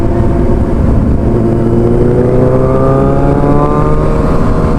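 Yamaha NMAX scooter accelerating at speed on a group club ride, engine note rising steadily and loud close by, blended with other motorbikes and wind rush throughout.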